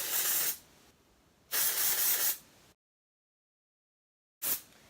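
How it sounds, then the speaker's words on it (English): Dry shampoo sprayed onto hair in three hissing bursts, two long ones about a second each followed by a short final puff after a silent gap, close to the mic. "we're going to go in with a little bit of the dry shampoo because that is going to give me some texture and volume."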